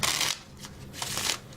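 Playing cards are shuffled in a few quick riffling bursts, close and crisp, with short pauses between them.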